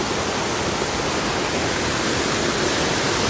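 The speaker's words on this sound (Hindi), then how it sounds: "यहाँ से आप नज़ारे देखिए, चारों तरफ से पानी बह रहा है" Water pours steadily at Bijakasha Waterfall in Bastar, a close, loud, unbroken roar of rushing flow with no pauses or voices.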